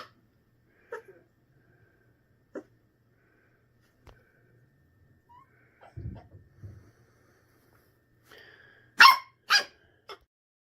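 A young puppy, eight weeks old, barks in a handful of sharp yips spread through a quiet room recording, with a louder cluster of close barks near the end.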